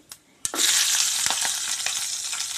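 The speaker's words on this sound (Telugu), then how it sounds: "ఇదే నూనెలో పోపు గింజలు వేసుకుంటున్నా" Tempering seeds drop into a generous amount of hot oil and set off a loud, steady sizzle, with a few soft stirring knocks. No one speaks.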